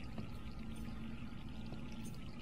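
Water runs continuously as a soft, steady pouring hiss in the Resident Evil 3 remake, faint and unbroken throughout.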